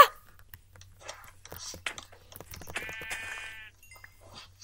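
A brown sheep in a video game lets out one clear, wavering bleat of about a second, preceded by quiet whispered talking and scattered soft game clicks.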